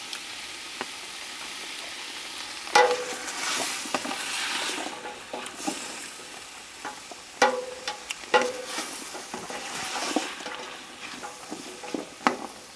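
Steady sizzling of minestrone vegetables including carrots frying in a pot, with intermittent clinks and scrapes of a utensil stirring, no voices.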